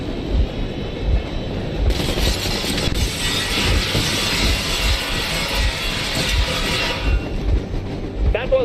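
A train engine in the video game Metro Exodus rumbles and clatters continuously, loud and close, with a hissing burst of steam-like noise across the middle; no speech is heard.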